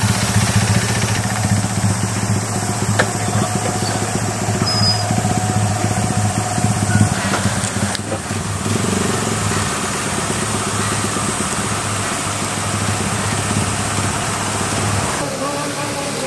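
Several vintage Showa-era mopeds idle together at a gathering in Tokushima, a steady low engine drone running continuously with people talking over it.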